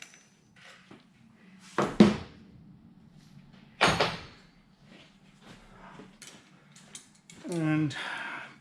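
Torque wrench tightening an alternator cover bolt on a Ducati Monster 659 engine, with two sharp ratcheting clicks a couple of seconds apart, then quiet fiddling and a longer rattling pull near the end, close and moderately loud.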